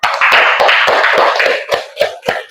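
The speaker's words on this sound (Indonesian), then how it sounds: "Tepuk tangan." Children in a classroom clap their hands together loudly and a little raggedly, a dense burst of sharp slaps that thins into a few separate claps at the end.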